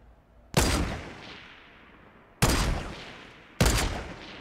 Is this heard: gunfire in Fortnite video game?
yes